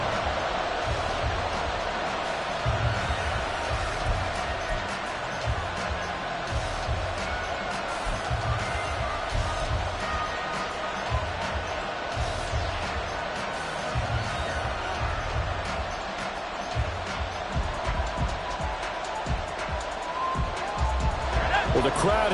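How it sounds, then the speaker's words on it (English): A game crowd roars at MetLife Stadium during a Cowboys football match, a constant dense wash of noise behind almost continuous commentary from an announcer. "Well, the crowd here at MetLife Stadium in full roar."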